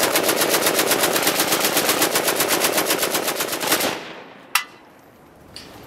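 An AK-47 rifle fires a long, rapid automatic burst of evenly spaced loud shots for almost four seconds, then cuts off, followed by one sharp single report and a faint later pop.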